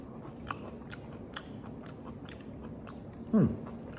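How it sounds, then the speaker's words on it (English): A P-22 mango eaten with its skin: a single close, crisp bite and crunch near the end, with faint mouth sounds and chewing under low room noise. "Oh, you tasted the skin?"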